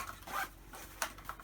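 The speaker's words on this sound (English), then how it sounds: "Another little zip pocket on the front there." A zip pocket on budget Temu camping gear is zipped in quick, scratchy pulls, close and fairly quiet, with no talk.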